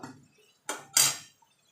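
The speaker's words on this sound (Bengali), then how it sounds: "এবার নাড়িয়ে দেবো" A spoon stirs a vegetarian elephant foot yam curry (ol dalna) in a cooking pot, giving two short, bright scraping clinks against the metal with near silence around them.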